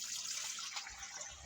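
Water pours steadily into a container for pigeons, a close, continuous hissing splash with no pauses.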